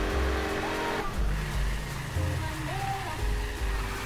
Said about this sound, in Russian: Я пытаюсь затормозить.